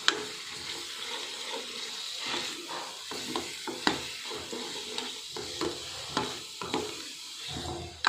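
Masala of turmeric and homemade red chilli powder being stirred and fried in a pan for a potato and cauliflower dish, soft sizzling under repeated scraping and clinking of a spoon, fairly quiet and close.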